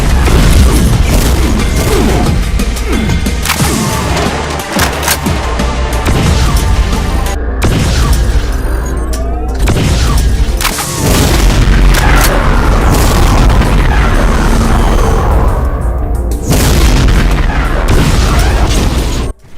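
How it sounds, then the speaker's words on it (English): Rapid spreads of BFG 9000 shots firing in a modded Doom game, a dense, continuous barrage of loud booming blasts and crashing impacts with no letup, no voices. "Firing spreads of BFG 9000 shots."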